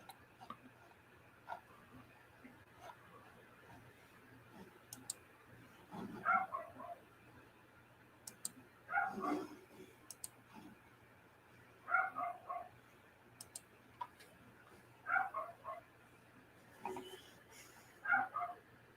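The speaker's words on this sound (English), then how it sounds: "Can y'all hear my buddy out there barking?" A dog barks outside, heard faintly from a distance as short clusters of barks and yips repeating roughly every three seconds over a quiet indoor background.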